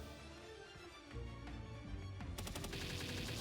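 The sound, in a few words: gunshots while shooting Jetragon in the video game Palworld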